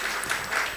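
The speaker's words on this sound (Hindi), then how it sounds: "एक बार तालियों की गड़गड़ाहट से दीदी को सम्मानित कीजिए।" A crowd claps in honour of a woman at a Jain religious ceremony, a dense, loud, continuous wash of applause filling the short moment.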